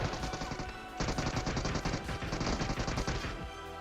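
Gunfire and shotgun blasts in a battle royale video game: dense, rapid bursts of loud shots fired in quick succession, with brief gaps between volleys and no talking.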